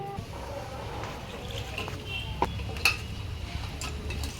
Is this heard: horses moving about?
no